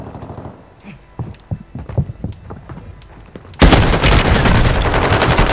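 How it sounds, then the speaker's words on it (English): Video game gunfire: rapid bursts of close, loud shots with irregular spacing, then a sudden dense roar of sustained firing and noise that fills the rest. "I shot him 56 times in the fucking chest"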